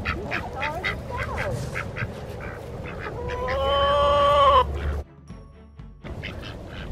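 A backyard chicken vocalizes with repeated clucks and rising, squawky calls against a busy outdoor background, close and fairly loud.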